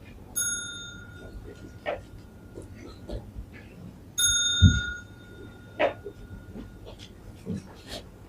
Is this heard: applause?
no